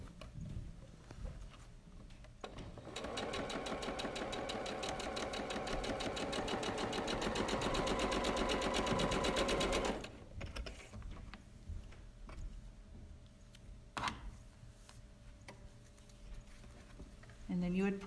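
A sewing machine stitches quilting fabric squares in one steady, loud run of several seconds, with quieter handling noises and some speech before and after.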